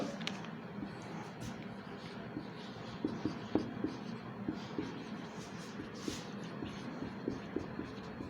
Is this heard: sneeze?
no